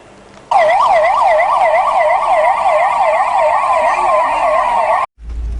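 A loud wailing 108 ambulance siren cycles steadily up and down for about five seconds, then cuts off abruptly.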